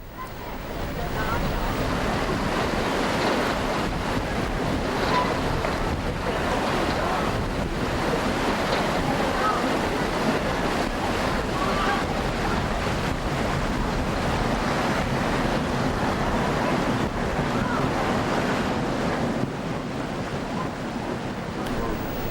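Passenger ship on a Swiss lake, with a steady roar of wind and churning waves against the hull for over twenty seconds, loud, dense and unbroken throughout.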